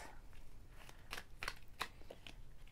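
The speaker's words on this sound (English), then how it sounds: "And then I'm going to do a little side shuffle here." A deck of tarot cards is side shuffled by hand, close and quiet: soft riffling rustle with several crisp, sharp card slaps in an irregular sequence.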